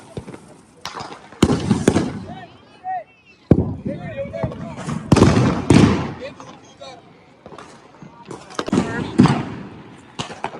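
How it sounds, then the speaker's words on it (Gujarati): Sutli bomb firecrackers are set off by hand during Diwali, several sharp, loud bangs at uneven intervals with people talking and shouting around them. "આ બૈરું જો સુતરી બોમ્બ ડાયરેક્ટ હાથથી ફોડે છે"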